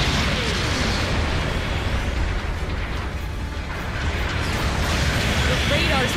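Enemy mobile suit blown apart in the mech combat game Gundam Battle Operation 2, a loud sustained explosive roar with rumbling bursts, mixed with a voice announcing in-game events.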